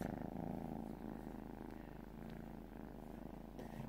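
A domestic cat purrs close by in a steady, continuous rumble that holds for several seconds with no other sounds.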